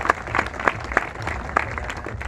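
Sparse, uneven hand claps from an audience at an Adivasi rights rally in Odisha, a handful of distinct claps over a low background murmur, fairly faint.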